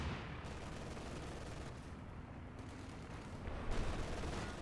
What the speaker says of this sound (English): Got another machine gun covering up, following up a deeper layer of machine gun fire